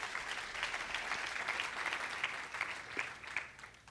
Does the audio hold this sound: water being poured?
no